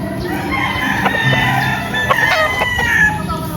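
An LDT Gray gamefowl rooster crows loudly and close by, one drawn-out cock-a-doodle-doo over a steady farmyard background, with other fowl faintly clucking.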